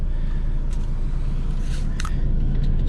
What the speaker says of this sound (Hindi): बिल्कुल साइलेंट, सिर्फ एग्जॉस्ट की वॉइस आ रही है